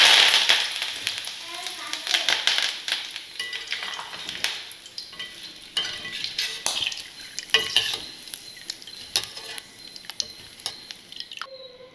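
Curry leaves dropped into hot oil while making crisp rice-flour chakli give a close, crackling sizzle with sharp spits and pops that fade into a softer hiss, with a voice speaking intermittently over it.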